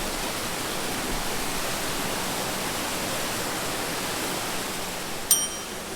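A rushing waterfall at a remote spot along a trail makes a steady, dense roar that fills the whole stretch at an even level, with one brief bright ding just before the end.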